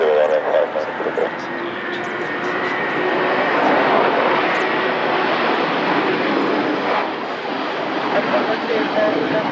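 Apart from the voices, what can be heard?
Cessna Citation III jet aircraft at Lisbon Airport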